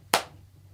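A single sharp hand clap rings out close and loud, then fades quickly into a low steady hum with no talk.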